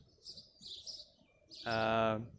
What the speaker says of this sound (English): as you can tell by the noises that the birds are making